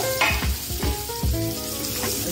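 Chopped raw banana goes into fried masala for Bihari-style sabzi, landing with several soft thuds and scrapes over a loud, steady sizzle close by, without speech.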